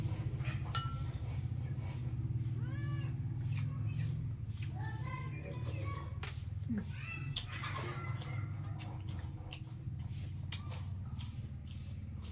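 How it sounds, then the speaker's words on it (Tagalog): A pet cat meows several times in a quiet room over a low steady hum, with faint clinks of dishes and shuffling nearby and people talking softly. "ito yung pusa ko."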